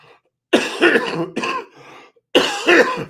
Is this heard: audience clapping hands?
no